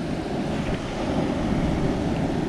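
Rough sea waves crash and wash continuously on an Okinawa shoreline, with steady wind buffeting the microphone and no voices.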